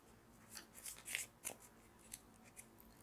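A small pocket-size tarot deck being shuffled: a few quick, crisp papery flutters and snaps, close and fairly faint, spread over a few seconds in an otherwise quiet room with no talking.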